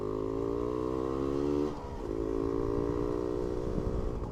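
A Suzuki RK Cool 110 two-stroke motorcycle ridden fast, engine droning loudly and steadily, pitch dipping briefly midway before picking up again, with wind rush and rattling around it.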